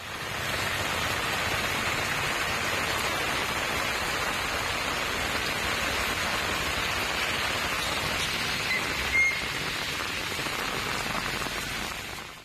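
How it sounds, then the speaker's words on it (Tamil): Moderate evening rain falls steadily in Kanchipuram, a dense, even hiss of drops on surfaces that holds constant throughout, with no voices. "காஞ்சிபுரத்தில் காலை முதலே வெயில் சுட்டெரித்த நிலையில் மாலையில் மிதமான மழை பெய்ததால் வெப்பம்"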